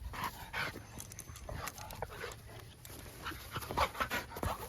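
A bigger dog pants in quick, breathy rhythm close by during cow hide play, with occasional small whimpers and light movement noises, no talk.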